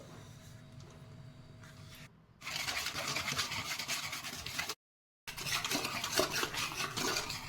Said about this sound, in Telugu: షుగర్ పౌడర్ వేసిన తర్వాత మొత్తం ఒకసారి కలుపుకోవాలి